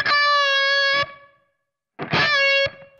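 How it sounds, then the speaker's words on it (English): Electric guitar through a NUX Trident with room reverb and compressor, two sustained chords each ringing about a second, the first trailing off into a short reverb tail before the second. "I've just gone with the room reverb that's on here"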